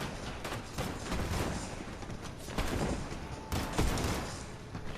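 Bursts of rapid gunfire in the video game Fortnite crackle in repeated volleys over a dense, noisy background, some shots louder and closer than others.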